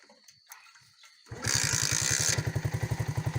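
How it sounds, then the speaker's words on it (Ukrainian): A Musstang Alpha motorcycle engine starts after quiet handling noises, then revs loudly up close before settling into a fast, pulsing idle. "Зараз я ще раз бубуркну."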